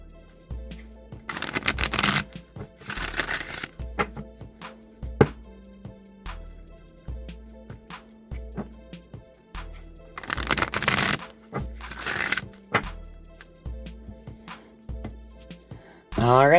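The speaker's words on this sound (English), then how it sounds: "I'm just going to shuffle these 3 times, and I will pull 3 of these cards from the deck." Tarot cards being shuffled in several bursts of riffling and rustling, close up, with soft instrumental music playing steadily in the background.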